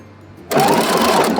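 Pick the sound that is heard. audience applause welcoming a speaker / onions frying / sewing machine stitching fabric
sewing machine stitching fabric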